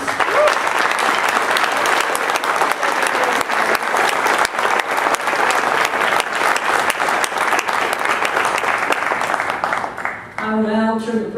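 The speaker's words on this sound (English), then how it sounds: "If we could have a round of applause for our graduates." An audience at a graduation ceremony gives the graduates a round of applause: dense, sustained clapping from a crowd that holds steady for about ten seconds, then thins out near the end.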